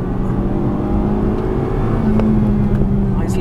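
A 2016 Honda Civic Type R (FK2) engine drones loudly and steadily on the Mondello Park circuit, its tone climbing slightly as it revs, shifting between second and third gear.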